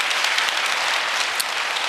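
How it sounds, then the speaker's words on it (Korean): Congregation clapping at a New Year prayer service, a short, steady burst of dense applause heard alone, fairly even in loudness throughout. "박수 감사드립니다"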